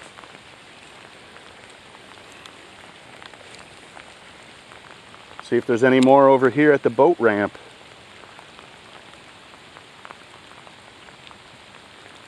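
Steady rain patters across a lake surface during a bass fishing outing near a boat ramp, a continuous soft hiss that runs throughout, with a voice speaking briefly over it midway.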